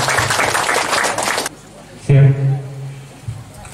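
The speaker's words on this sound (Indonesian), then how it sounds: "Tepuk tangan dulu." A crowd applauds at a governor's visit to a bank-sponsored village in Mollo Utara, NTT: about a second and a half of dense, steady clapping that cuts off abruptly, followed by someone speaking.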